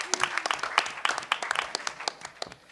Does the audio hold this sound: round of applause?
yes